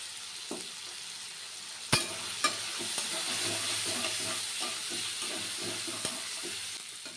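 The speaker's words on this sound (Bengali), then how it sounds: "হলুদ দিয়ে ভাজা হয়ে গেছে" Crushed ginger and turmeric fry in hot oil in a pan, a steady close sizzle with a spoon stirring and scraping, a few sharp metallic knocks against the pan.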